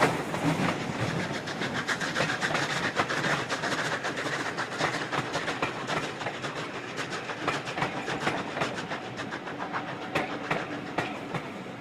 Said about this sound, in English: the train climbs towards the current terminus at Whistle Inn